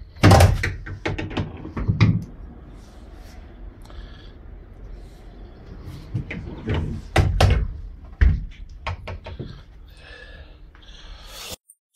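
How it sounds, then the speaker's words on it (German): Door of an old Hamburg city bus opened and closed by hand, heard as several close, loud clunks, slams and rattles with brief quieter gaps between them. "Die Tür kann man auf und zu machen."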